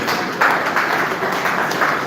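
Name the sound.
round of applause from audience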